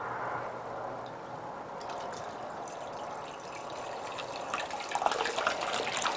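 Water rushes steadily from a pump valve opened full bore at a creek beach, a continuous close gush that swells slightly toward the end.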